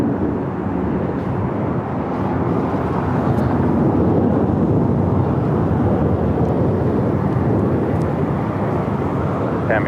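Southwest airliner landing on runway 25 left at Los Angeles airport, a loud, steady jet roar sustained throughout with a faint radio voice in the background.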